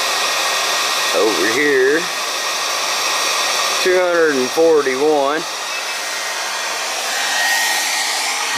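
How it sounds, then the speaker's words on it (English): A MaGrav heater unit blows air in a loud, steady rush throughout, while someone talks briefly over it. "Now let's see what the heater's putting out."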